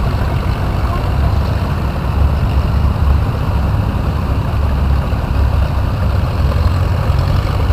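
A 1952 Case VAC tractor engine runs steadily at a show, a continuous low rumble holding even and fairly loud throughout with no pauses.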